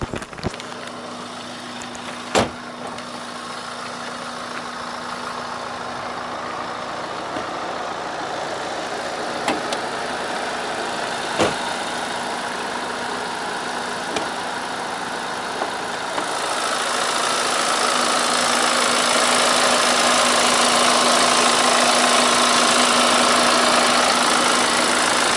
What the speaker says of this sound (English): I'm going to keep the engine running and we'll pop the bonnet and have a little listen underneath.